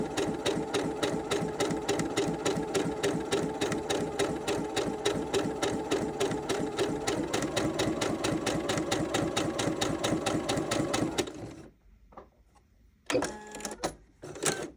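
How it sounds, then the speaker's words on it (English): A sewing machine stitches a quilt-as-you-go Battenberg block in a steady rapid mechanical whir of needle strokes, close and loud, running continuously for about eleven seconds before stopping, followed by a couple of brief softer handling noises. "I sew a few stitches, and then I put this underneath, and then continue to sew"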